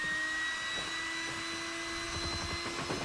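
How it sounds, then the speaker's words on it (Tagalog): A vacuum cleaner runs steadily in another room, a constant whining drone with a faint high tone, moderately quiet and with no voices. "Nag-vacuum yung asawa ko."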